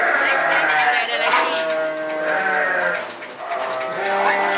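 Several Dorper and Garut crossbreed sheep bleat loudly and continuously, overlapping calls close by in a livestock pen with qurban sheep being weighed.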